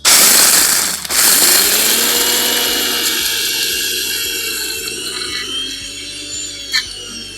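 A kitchen mixer grinds peanuts into peanut butter, roaring loud and close with a harsh whining motor whose pitch drifts steadily as it runs without pause.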